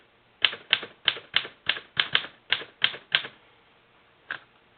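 A Royal Junior manual typewriter with a freshly swapped platen types about ten crisp, evenly spaced keystrikes, then one more after a short pause, close and clear in a quiet room.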